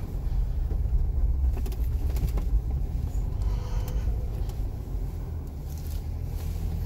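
A Jeep Wrangler in four-wheel drive churns through soft beach sand, its engine a steady low rumble that fills the cabin with no break.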